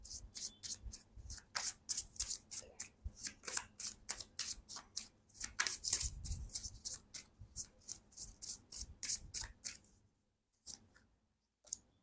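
Oracle cards from a Romance Angels deck are shuffled by hand in quick, rhythmic riffling bursts, close and fairly quiet, continuing for about ten seconds before a few faint taps and silence.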